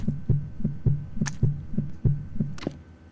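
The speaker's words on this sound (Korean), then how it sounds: "쟤이 심장 소리가 끊어지면 달려듭니다" A monster's heartbeat in a horror video game pulses in a steady, regular double-thump rhythm, loud and close, about nine beats with occasional faint higher rustling overhead, alone without talk.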